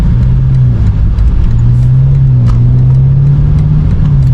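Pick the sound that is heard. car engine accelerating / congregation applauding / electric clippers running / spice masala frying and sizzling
car engine accelerating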